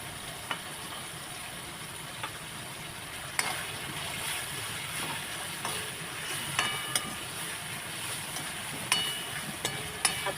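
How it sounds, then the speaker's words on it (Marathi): Tomatoes fry in oil in a pan for a prawn masala, a steady dense sizzle with occasional clicks of stirring throughout. "आता टमाटर व्यवस्थित तेलामध्ये फ्राय करून घ्यायचं, शिजवून घ्यायचं"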